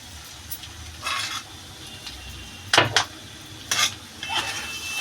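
Banana flower curry with prawns and garam masala being stirred in a pan, a spoon scraping in several separate loud bursts with a soft sizzle beneath, no voices.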